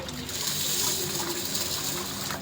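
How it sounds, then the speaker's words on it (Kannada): Water poured from a vessel over a cup of soaked, washed green gram and peanuts for dosa batter, a short close-up splashing pour with no voices. "ಇದಕ್ಕೆ ನೀರು ಹಾಕ್ಬಿಟ್ಟು"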